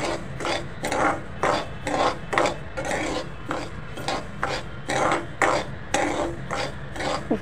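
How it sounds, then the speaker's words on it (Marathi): Amaranth (rajgira) being dry roasted in a pan over a low gas flame, with a steady rhythmic scraping and rasping as the grains are stirred, about two strokes per second, close and moderately loud with no talking. "स्लो गॅसवरच राजगिरा भाजून घ्यायचा आहे."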